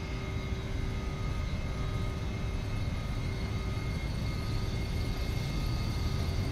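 A PMDG 737-800's jet engines roar steadily at takeoff thrust in the Prepar3D v4.5 simulator during a San Francisco departure, a constant, loud, even drone with a faint high whine.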